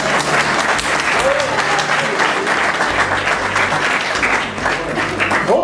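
Sustained applause at a civil wedding, a crowd clapping loudly and continuously throughout, with faint voices mixed in underneath.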